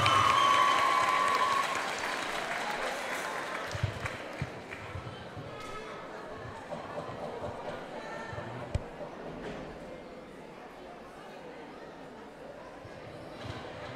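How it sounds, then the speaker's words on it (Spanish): Applause from a graduation ceremony crowd fills the hall, loudest at the start and then settling into a steady, slightly fading wash of many hands with a few sharper claps near the end. "Damos un fuerte aplauso"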